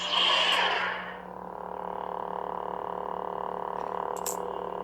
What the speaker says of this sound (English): let's hear that Obi-Wan sound font with the blade in